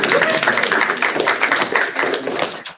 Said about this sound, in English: That in itself, a round of applause.